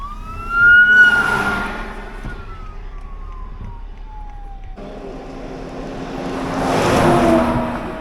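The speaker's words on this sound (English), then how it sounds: "now we got an ambulance coming through." An ambulance siren wails as it comes through traffic, a loud rising and falling tone that swells, fades into a lower sweep, then returns with a second loud surge of road rumble near the end.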